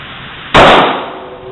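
A single loud gunshot at an outdoor shooting range, one sharp crack with a short decaying tail, heard alone over steady background noise.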